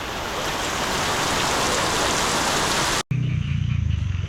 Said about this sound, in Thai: ฝนใหม่ครับผม ฝนใหม่